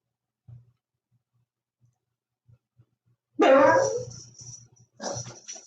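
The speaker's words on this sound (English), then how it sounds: "He just barking at the air" A dog barks indoors: a loud burst of barks after a near-silent stretch with a few soft thumps, then a second short round of barking, close and alone with no talk.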